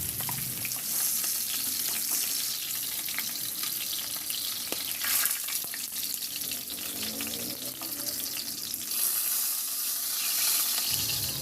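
Tilapia fish sizzles steadily as it fries in hot oil in a home kitchen, a continuous close crackle with brief stirring or water noises mixed in and no one talking.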